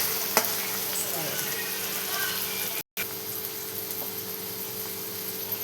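Onion frying in a pan until soft, a dense, steady hiss of sizzling at fairly high level throughout, with one brief dropout and a faint click near the start.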